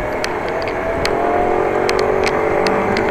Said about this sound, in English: I heard a scooter